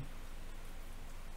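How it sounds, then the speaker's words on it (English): Rain falling outside, a steady, even wash of patter that fills the brief moment at a moderate level, with no voices. "You hear the rain?"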